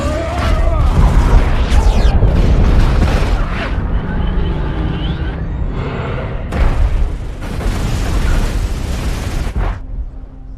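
An explosion destroys Ultron's core and part of a city in an Avengers film, heard as loud, sustained booming and rumbling with crackling bursts that swell again midway.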